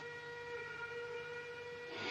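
A train arrives in a 1950 western film, its whistle holding a steady chord-like tone over a low rumble. A burst of steam hiss swells at the end, with no voices.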